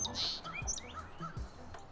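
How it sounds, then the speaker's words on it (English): Small birds chirp and tweet faintly outdoors, a few short scattered calls over quiet background with light low thumps. "I'm hearing a ton of birds"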